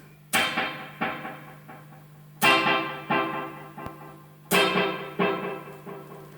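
Instrument run through an Echolette NG 51 tube tape echo with two delay heads engaged, three sharp struck notes each followed by a pattern of fading repeats over a steady low hum.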